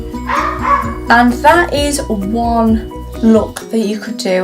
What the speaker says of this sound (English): so sorry if you can hear my dogs barking